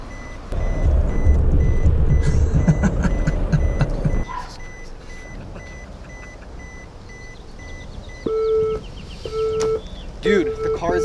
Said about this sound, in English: Dude, put your fucking seatbelt on. That beep is annoying.